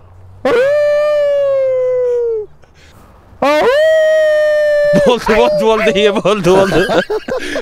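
A person imitates a dog with loud, drawn-out howling tones, then breaks into quicker yelping, whimpering barks, close and clear with nothing else beneath.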